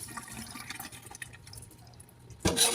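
Tap water runs and splashes while food is rinsed in a kitchen strainer, a steady low wash that surges louder and brighter near the end.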